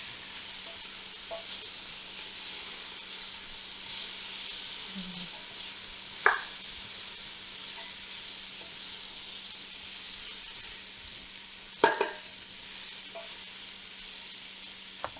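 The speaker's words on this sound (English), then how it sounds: "So we'll just stir this and let this cook about 5 minutes until the vegetables are softened" Vegetables for a vegetarian gumbo cook in a pot, with a steady soft sizzle and hiss running throughout and a few faint clicks of stirring. No one speaks.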